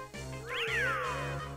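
Cartoonish cat meow from the video game Bambis Quest of Humour 2, a single rising then falling cry over a steady low game music bed.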